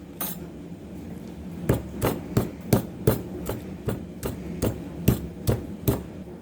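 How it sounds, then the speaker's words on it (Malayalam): Onion being pounded and crushed, about a dozen sharp thuds in an uneven rhythm, close and fairly loud over a faint background, with no talking. "ഉള്ളി ചതച്ചെടുത്തിട്ടുണ്ട്. നമുക്കിത് ചതച്ചെടുക്കാം."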